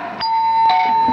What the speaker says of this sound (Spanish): Elsa, ding dong, ya.